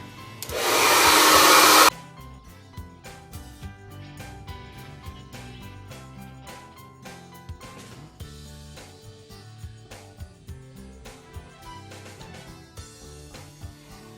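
Infrared blow dryer blasting loudly for about two seconds while drying hair, then cutting off, followed by quieter brushing and handling sounds.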